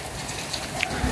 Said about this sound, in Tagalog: Dito sa bintana namin, grabe po yung tagatak ng ulan.